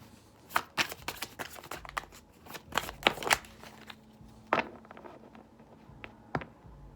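Tarot cards being shuffled and drawn: quiet, close riffles and papery flicks in irregular bursts, with soft snaps as single cards are pulled and laid down.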